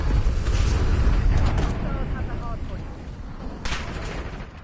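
Gunfire from the PS5 shooter Black Ops 6 in a ranked match: dense, rumbling bursts of shots, loud and close through the first half, easing off, then a fresh sharp burst near the end.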